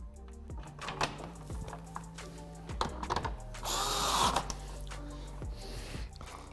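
A power driver sends a screw into a C7 Corvette undertray during an ACS Z06 splitter install, with short whirring bursts, one longer loud high-pitched run in the middle and a few clicks between, close up.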